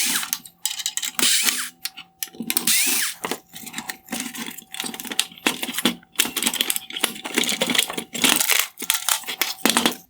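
A power driver removing T25 Torx screws from the lower projector bracket of a 2018-2021 Range Rover Sport OEM LED headlight makes repeated whirring bursts, close and loud, separated by brief pauses and plastic handling clicks.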